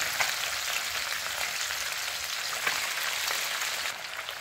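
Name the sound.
small fish frying in hot refined oil on high flame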